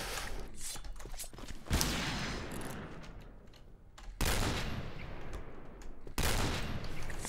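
Gunfire in the first-person shooter Piercing Blow, bursts of sharp shots with loud reports around two, four and six seconds over a dense, noisy game background.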